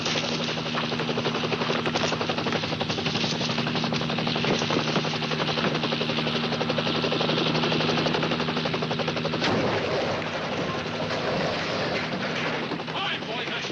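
Rapid bursts of rifle gunfire crackle in a Highway Patrol police drama over a steady, loud droning engine, the shots running as dense rattling volleys for most of the scene.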